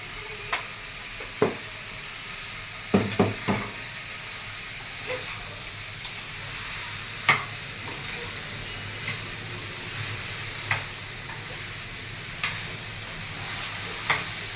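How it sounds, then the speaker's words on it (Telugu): Salted okra frying in oil, a continuous sizzle and hiss punctuated by scattered sharp spatters and ladle taps at irregular intervals, with no talking. "బెండకాయలు ఆయిల్లోనే ఒక 5 మినిట్స్ ఫ్రై అవ్వాలి బాగా."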